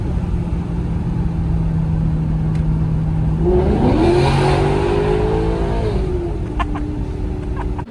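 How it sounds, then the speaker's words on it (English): Maserati GranTurismo MC pulling hard in second gear, its engine note droning steadily and then climbing in pitch as revs rise, loud and close throughout, with no talking. "let's give the GranTurismo one last acceleration"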